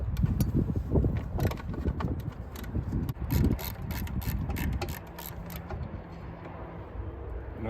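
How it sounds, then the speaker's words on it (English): A hand ratchet loosens bolts on a Briggs & Stratton engine's lower oil pan, giving close metallic clicking and rattling bursts in uneven runs that thin out toward the end. "We're going to take these bolts out."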